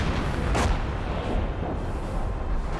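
An incendiary booby trap detonates in Company of Heroes 1, a dense, loud sustained roar of blast and crackling fire with a sharper burst near the start.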